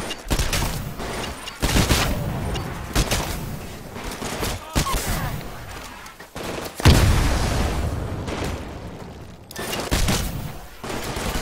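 Gunfire in a Titanfall live-fire training exercise, with dense bursts of automatic shots and heavier blasts layered over each other almost without pause, loud and close throughout.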